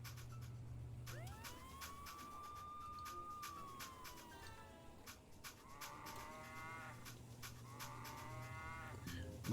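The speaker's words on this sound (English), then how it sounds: "The cow sounds really tie the whole thing together" Cattle lowing in the Nancy Drew game Secrets Can Kill: one long drawn-out moo followed by several shorter ones, set against a steady low hum and repeated sharp clicks, with no talking.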